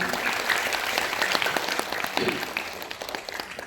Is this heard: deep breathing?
no